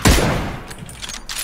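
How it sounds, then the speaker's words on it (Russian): Gunfire in PlayerUnknown's Battlegrounds: a loud, sharp report at the start followed by a rumbling, decaying tail and faint scattered noise, a single close burst standing alone. "Ты стрелял?"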